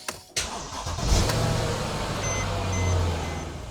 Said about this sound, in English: You hear the compressor running.